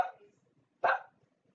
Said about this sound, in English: Booby, that does not stop him from barking